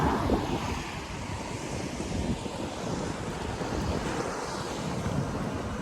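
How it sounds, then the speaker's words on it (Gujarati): Cool sea wind on the shore at the Alang ship breaking yard buffets the microphone in a continuous roar, with surf washing underneath and no voices. "મસ્ત પવન આવે ભાઈ, ઠંડો ઠંડો પવન આવે"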